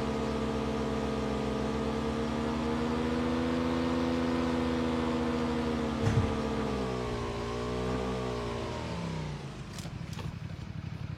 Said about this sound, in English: Oh my god, there's a car coming behind you?